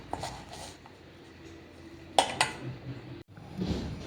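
A spoon stirs a carrot pickle mixture in a bowl, giving a few sharp metallic clinks and scrapes against the bowl over quiet background hiss.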